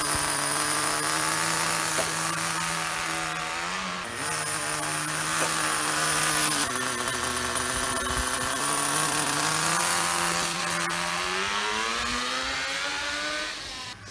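A freshly rebuilt 2003 Acme Condor 1/10 4WD nitro RC buggy engine idles outdoors on a hot day, giving a steady, loud, buzzy drone whose pitch dips and climbs slightly throughout.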